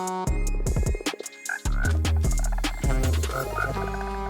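Unusual frogs in a Minecraft mod croak loudly and close, repeated bursts and warbling calls with brief pauses, no talk.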